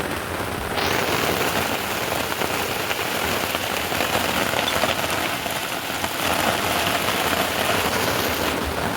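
Steady rain pours down on a farm where harvested paddy lies out in the open, a dense, continuous hiss of drops on surfaces that stays loud for the whole stretch with no voices.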